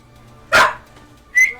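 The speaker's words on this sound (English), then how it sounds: "She's barking at Andrew in the shower." A dog barks once loudly and close, inside a home while someone showers, followed about a second later by a shorter, higher yelp-like bark, with a quiet room between.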